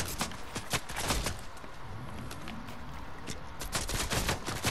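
Gunfire in the Fortnite video game, with many sharp shots cracking in rapid bursts and scattered single shots at moderate loudness throughout.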